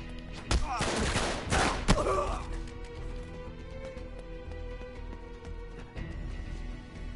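Firefight gunfire in Uncharted 3: Drake's Deception, with dense rapid bursts of shots early on, then thinning to scattered single reports over a steady low game rumble.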